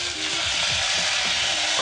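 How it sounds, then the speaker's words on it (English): Peppers and black beans sizzle in a hot pan, a steady close frying hiss with faint stirring scrapes underneath. "we're going to throw our black beans in there"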